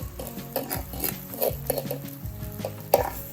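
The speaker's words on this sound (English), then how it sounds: "When they are cooking, we need to keep stirring the eggs so that we can get a nice scrambled eggs" Eggs being scrambled in a hot oiled pan for fried rice, a spatula scraping and tapping the pan in quick irregular strokes over a soft sizzle, close and fairly quiet.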